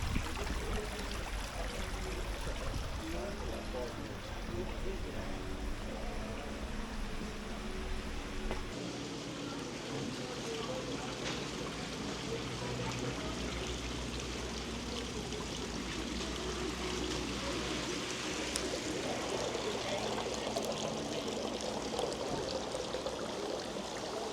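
Water runs and splashes steadily from a drinkable spring at Glastonbury Tor, a continuous close trickling pour with a shift in tone partway through, and no voices.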